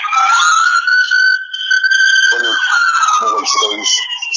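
Police, ambulance and fire sirens passing by, a loud wailing tone rising and falling steadily with overlapping siren layers and traffic noise.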